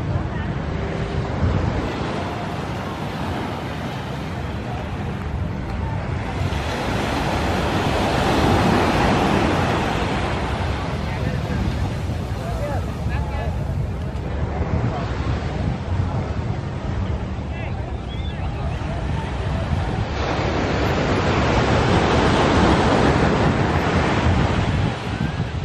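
Sea waves on a beach at Los Cabos, a loud continuous wash of surf rising and falling in repeated surges, with wind buffeting the microphone throughout.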